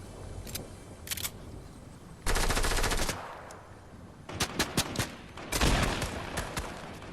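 Automatic gunfire in the Fortnite video game: several sharp bursts of rapid shots, some longer rattling strings and some single cracks, loud and close against a quieter background with no voices.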